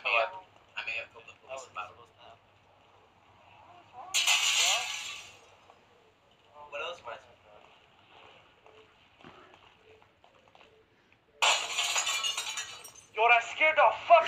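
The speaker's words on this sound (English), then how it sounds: "I got a glass shatter sound effect." Glass shattering in Minecraft, two bright crashing bursts a few seconds apart, each sharp and loud, set between stretches of excited talk and quieter game sounds.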